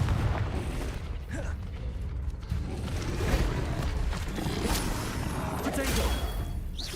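Confringo explosive spell blasts land during a Hogwarts Legacy fight, heard as repeated booming bursts and mechanical clatter over a steady rumbling bed, with talk mixed in throughout.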